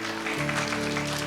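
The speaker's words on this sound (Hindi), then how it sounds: "बहुत बढ़िया, ताली बजाओ।" An audience claps at a children's summer camp session, a dense continuous patter of many hands, close and steady, with a faint background tone.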